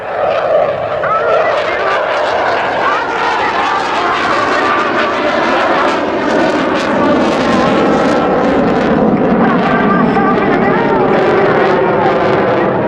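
CF-18 Hornet jet with twin General Electric F404 engines at a twilight airshow in London, a loud, steady, broadband engine roar that fills the whole stretch without letup.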